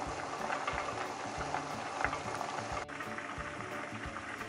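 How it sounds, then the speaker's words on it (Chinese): Tteokbokki sauce boils in a pot, a steady, close bubbling hiss that continues throughout, with faint ticking pops and no voices. "酱料滚了之后，大概煮三分钟"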